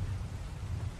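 Steady rain with a low rolling thunder rumble in ARK: Survival Evolved, continuous and fairly loud with no pauses, and no voices over it.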